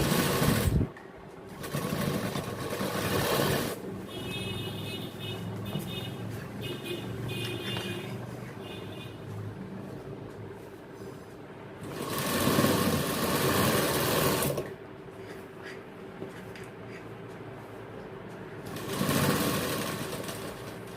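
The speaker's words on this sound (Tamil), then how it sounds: "பெல்ட் ஓரத்தில் கரெக்டாக தைச்சி போயிட்டுருக்கணும்." A tailoring sewing machine stitches along the edge of a gents' trouser belt, running in a loud, fast mechanical whir with brief pauses and restarts, heard up close in a shop.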